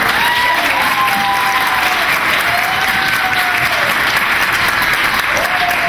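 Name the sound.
audience applause at award event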